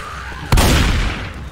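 Gunfire in the zombie shooter Left 4 Dead 2 on a custom apocalypse map: a single sharp, loud shot with a booming tail that fades over about a second, close and alone.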